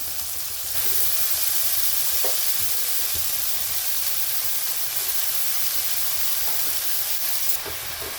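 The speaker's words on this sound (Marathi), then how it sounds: "आता आपण भाजीला ना परतून घेऊ म्हणजे कांदा हे आपण लसण आणि टोमॅटो टाकला आहे ते मिक्स करून घेऊ" Dill greens stir-frying in a pan with onion, garlic and tomato give a steady, close sizzling hiss throughout, with occasional soft scraping from stirring.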